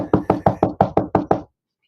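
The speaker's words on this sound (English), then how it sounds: "I'm knocking on my desk." Knuckles rap on a desk eight times in a quick, even rhythm, each knock close, loud and hollow, and then the sound stops dead.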